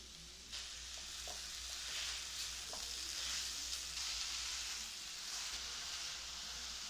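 Grated coconut and date-palm jaggery cook in melted ghee over a medium gas flame, giving a steady, close hiss and sizzle with faint stirring scrapes throughout.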